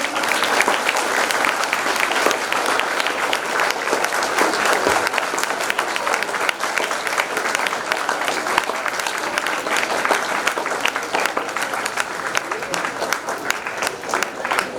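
At a school swearing-in ceremony, a large audience keeps up sustained, steady applause. The dense, even clapping stays loud and continuous throughout with no talking over it.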